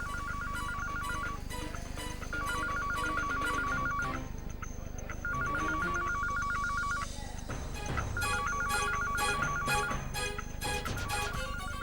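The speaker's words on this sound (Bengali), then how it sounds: "রিং তো এই করিডোর থেকেই শোনা যাচ্ছে।" A telephone ringtone sounds in a hospital corridor, repeating in regular trilling bursts separated by brief gaps, fairly clear against a busy background.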